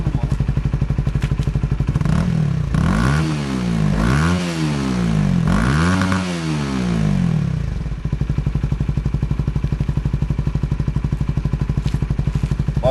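A Honda CBR 125 single-cylinder motorcycle fitted with an Akrapovic replica exhaust and catalytic converter idles nearby, then revs sharply three times in rising and falling sweeps before settling back to a steady, throaty idle.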